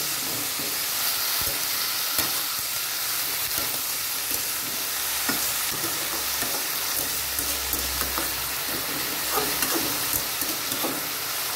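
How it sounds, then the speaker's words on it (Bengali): Bottle gourd peel and potato, salted in a hot pan, are stirred with a steady sizzle and hiss, while scraping stirring strokes and light clatters come and go close by. "ভালো করে নেড়ে নেব।"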